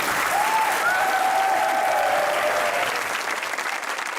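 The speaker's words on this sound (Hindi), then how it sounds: "तालियां बजती रहनी चाहिए" Studio audience applause welcoming guests Maria Wasti and Jugal Kazim on a comedy talk show, a dense, even wash of clapping that carries on throughout, with a brief faint voice over it.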